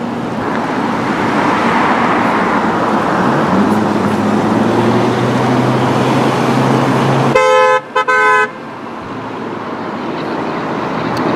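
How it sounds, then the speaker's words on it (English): A car horn sounds loudly and nearby over steady roadway traffic rumble: one sustained blast breaks into a few quick stuttering beeps, then the traffic noise carries on alone. "Hopefully those are happy beeps"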